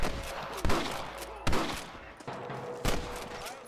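Four sharp, loud gunshots in the video game Red Dead Redemption ring out at uneven intervals, each followed by a short echoing decay, with no voices.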